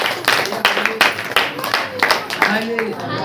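Worshippers at a Christian prayer seminar clap together in a rhythmic series of sharp claps, while voices talk over them.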